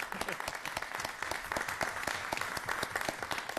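Applause at a city council meeting, a dense and even round of many hands clapping from the room, fairly quiet and sustained for several seconds, with faint voices underneath.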